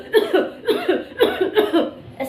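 A woman coughs repeatedly in a steady run of harsh, voiced bursts, about five close fits, imitating the continuous coughing of whooping cough.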